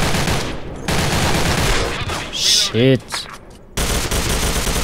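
Bursts of automatic gunfire from a P90 and an AK in the shooter game SKILL Special Force 2, loud and dense across most of the span with a short gap, while a player curses briefly over the shooting.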